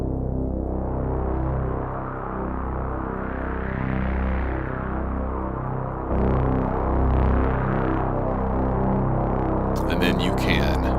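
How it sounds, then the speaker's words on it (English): Bass drone from a Eurorack modular synth run through a delay, a steady throbbing low hum that swells and widens, with a bright burst of higher noise entering near the end. "if we put it through a little delay, then it immediately becomes this like stereo drone"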